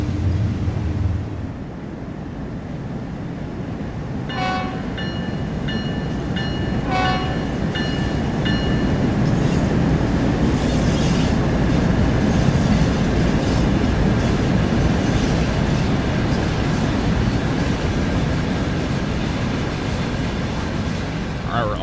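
A Train Sim World 5 locomotive idling in neutral rolls along the track with a steady, full rumble. A few sharp clicks come early, then the sound stays constant and fairly loud.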